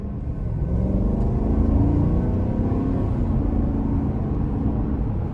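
A 2024 Chevrolet Tahoe High Country accelerating from inside the cabin, with a steady, loud low engine rumble and road drone that swells gently as it gathers speed, no voices.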